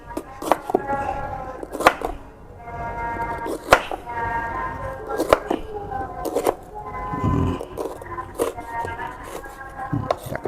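A sharp knife chops through tough durian rind in a run of crisp, irregular cuts and thuds, close by, while a person talks.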